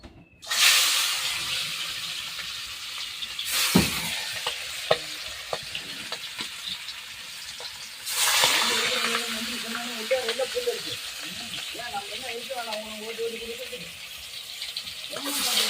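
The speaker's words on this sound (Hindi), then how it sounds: "माछ एबे भजा हबो कड़े रे तेल भी गरम हे गलानी" Fish frying in hot oil in a pan, with a steady sizzle and hiss running throughout, occasional stirring rattles and louder bursts of spitting, while a person talks over it.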